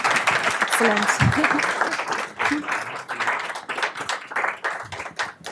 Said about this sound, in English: Please, a round of applause for both of them.